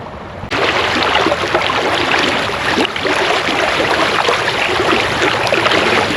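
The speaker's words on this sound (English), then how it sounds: "Well, there's our little creek." A small creek near a camp flows steadily, a dense, continuous wash of rushing water close by that starts abruptly after a brief quiet moment and holds a constant level throughout, with no voices.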